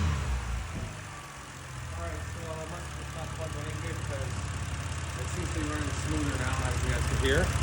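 A BMW 328i E90 engine idles after a coil pack replacement, a steady low rumble with a faint repeating ticking, gradually growing slightly louder and close by.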